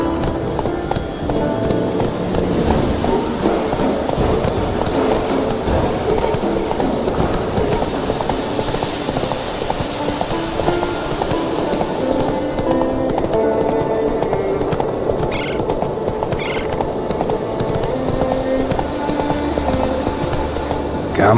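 Roach, a horse in The Witcher 3, gallops with steady rapid clip-clop hoofbeats throughout, loud and close over a dense ambient game backdrop, with no talking.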